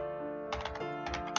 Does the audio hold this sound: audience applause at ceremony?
no